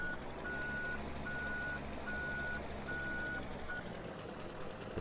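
Truck reversing alarm in Farming Simulator 17, a steady series of evenly spaced electronic beeps over a constant low engine rumble, loud and continuous with no talk.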